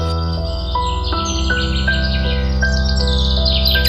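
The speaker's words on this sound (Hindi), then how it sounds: "पहले जिन पक्षियों की आवाज से सुबह आंखें खुलती थीं" Birds chirping and singing in a misty forest, bright repeated tweets and whistled notes stepping through a layered chorus, fairly close and clear over a steady low hum, with no talking.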